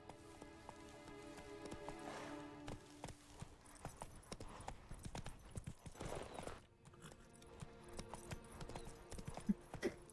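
Roach, the horse in The Witcher: Wild Hunt, clip-clops along in a steady run of hoofbeats under a busy game soundtrack, with a faint patter like rain behind.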